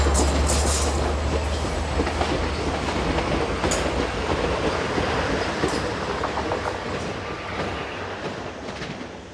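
Alstom-built diesel locomotive, similar to a UK Class 67, hauling a train past, a loud rumbling roar with rail clatter and scattered clicks, slowly fading as it moves away.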